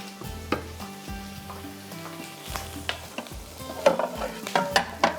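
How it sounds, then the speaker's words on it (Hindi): Chapli kababs frying in butter in a pan, giving a steady sizzle broken by repeated stirring and scraping knocks, with a few louder crackling bursts near the end and no voices. "अच्छा, ये भी बटर के साथ ही होंगे फ्राई"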